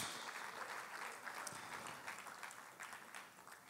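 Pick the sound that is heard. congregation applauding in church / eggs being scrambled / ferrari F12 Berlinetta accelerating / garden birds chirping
congregation applauding in church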